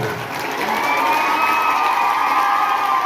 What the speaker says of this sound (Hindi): इनके लिए जोरदार तालियां बजाएं